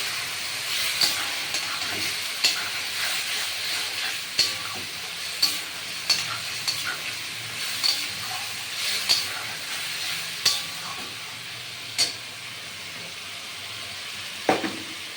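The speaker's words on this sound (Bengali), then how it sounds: "দুই চামচ তিন চামচ টমেটো পেস্ট এটা দিয়ে এবার ভালো করে ভাজা ভাজা হবে" Tomato paste frying in a pan makes a steady hiss, broken by a series of sharp spoon taps and scrapes at irregular intervals, close and moderately loud.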